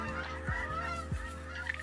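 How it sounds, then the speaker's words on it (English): Canada geese honk loudly and close by, two sharp nasal calls about half a second apart over a continuous background of softer honking. "cobra chickens are attacking. And by cobra chickens, I mean Canada geese"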